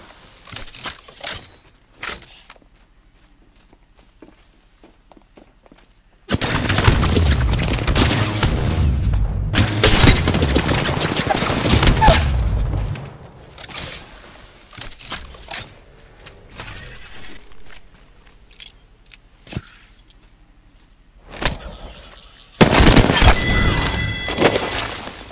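Apex Legends gunfire crackles in loud bursts of rapid shots and impacts, separated by quieter stretches with scattered single shots, with no talking heard.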